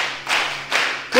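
A church congregation claps in two loud, broad bursts with a brief lull between, and a third burst begins at the end, with no voices heard.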